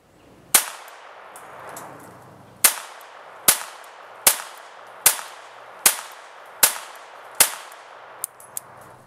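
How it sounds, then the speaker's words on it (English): A CZ Model 27 pistol in .32 ACP fires eight sharp, loud shots at irregular intervals, each with a short ringing decay, followed by a couple of faint metallic clicks. "The CZ Model 27 in 32 ACP is a fun little pistol to shoot."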